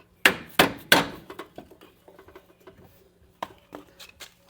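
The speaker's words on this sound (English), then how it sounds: "that's where the rubber mallet comes in handy." A rubber mallet drives a strut bolt into the steering knuckle of a 2004-2006 Scion xB: three loud, close blows open the clip, followed by lighter scattered taps and knocks, with two more firm strikes near the end.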